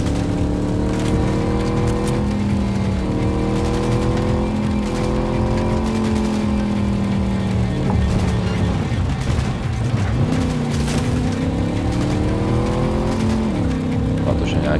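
A car speeds along in Cyberpunk 2077 at about 140, its engine droning loud and steady with pitch shifting as it accelerates, and a player talks over the game sound.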